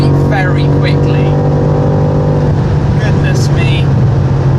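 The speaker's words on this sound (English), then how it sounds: "It's fantastically easy in this car to drive very, very quickly." A BMW M5 engine accelerating hard on the autobahn, a loud steady drone with rising whine and constant road and wind roar close inside the car.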